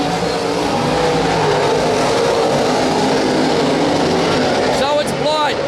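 Late model race cars roar around the Perth Motorplex speedway during the W.A. Late Model title heats. The engines make a loud, continuous, dense wall of sound, with a race commentator talking over it on the public address.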